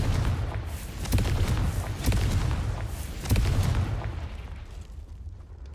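Spell blasts from the Confringo fire curse in the video game Hogwarts Legacy, several deep booming explosions in a row with crackling bursts that fade out toward the end.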